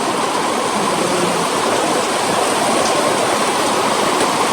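Rain pours steadily onto a small terrace garden, a loud, dense, unbroken hiss close to the microphone with no talking.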